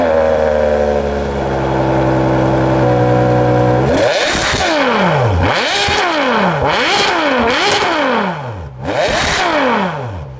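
A Ferrari 599 GTO with the V12 taken from the Enzo idles loudly at close range, then gets several sharp blips of revving, each climbing fast and falling back.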